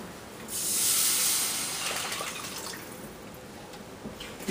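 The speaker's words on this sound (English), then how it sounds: "going to add the water." Water is poured into a hot pan of tomatoes that are already releasing their juice, setting off a loud, steady hiss and sizzle that slowly fades over several seconds, close and with no talking.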